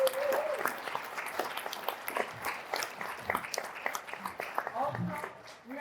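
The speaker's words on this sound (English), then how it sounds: "So give them a big round of applause" Scattered, uneven clapping from an audience at an elementary school children's theater performance, individual claps standing out with voices mixed in among them.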